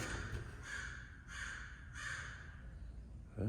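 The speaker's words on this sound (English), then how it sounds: "is that a crow?" A crow caws three times in a loose rhythm outdoors, fairly far off, with steady wind or background noise and a brief low thump at the end.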